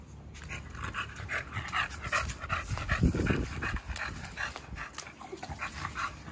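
An American Bully dog pants rapidly and whimpers close by during a bath, its quick breathy panting steady throughout with a few soft yips, and no talking.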